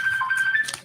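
A phone rings in a courtroom, a steady electronic ringtone holding one pitch for most of the moment, fairly loud over a quiet room.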